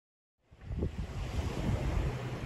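Wind gusting at a riverbank shore at low tide on a snowy day, a rushing roar that rises suddenly and stays steady and loud, buffeting the microphone.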